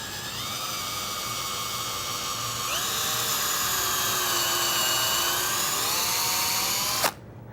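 A power drill bores steadily into a wood pilot hole while building a woodworking joint, a loud high whine that holds and shifts pitch slightly midway, then stops abruptly near the end.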